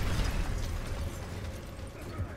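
A frag grenade blast in Gears of War, a loud broadband rumbling burst that fills the whole short stretch and fades only slightly, with no speech over it.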